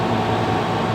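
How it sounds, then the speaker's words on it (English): An air conditioner runs inside a 2020 Max XL BoonDock Edge camper, giving a steady, even hum of blowing air with a low droning undertone and no talking. "of course, I have the air conditioner running."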